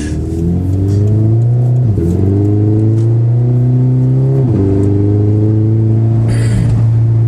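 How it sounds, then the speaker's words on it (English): Scion FR-S automatic accelerating in sixth gear, heard from inside the cabin: a loud, steady engine drone climbing in pitch, with brief dips as shifts interrupt it, and a strong low rumble throughout. "you know what it's like when you're in sixth gear and you push the gas"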